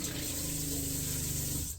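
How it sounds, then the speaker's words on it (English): Hot tap in a 2021 Journey caravan with gas instant hot water running steadily, a constant close rush of water from the faucet that cuts off near the end. "once we turn the hot tap on, 15 seconds later we will have hot water"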